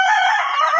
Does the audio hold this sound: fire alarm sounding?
no